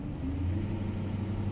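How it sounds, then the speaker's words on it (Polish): BMW 535i engine accelerating from a standstill after being put in drive, a steady low rumble that holds close and even throughout with no talking over it. "Daję gazu."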